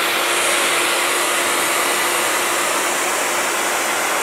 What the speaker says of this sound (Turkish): saç kurutma makinesiyle ısıtarak bir miktar genleşmesini sağlayacağım